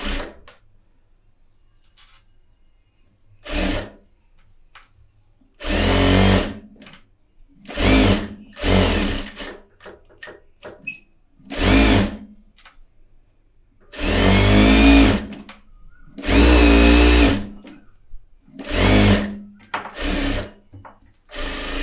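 A tailor's sewing machine stitching cloth runs in repeated bursts of loud mechanical whirring, with short pauses between runs and quieter handling noises in the gaps.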